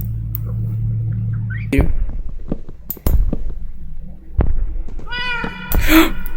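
A cat meows once, near the end, in a Minecraft horror mod, after a run of scattered thumps, clicks and clatter from the game.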